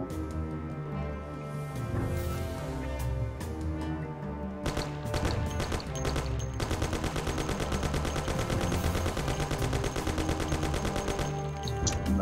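Rapid gunfire from the 1930s gangster video game Mafia, dense bursts of shots rattling almost continuously, loud and close, with a thicker volley from about five seconds on and no talk over it.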